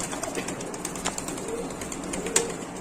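A fancy satin pigeon coos softly at close range, low murmuring calls under a background of scattered clicks and small knocks, with one sharper tap near the end.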